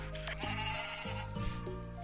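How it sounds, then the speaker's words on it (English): A mountain goat bleats on a farm in Story of Seasons. Several short bleats and whinny-like cries play over a steady background music bed. "Let's get in our mountain goat."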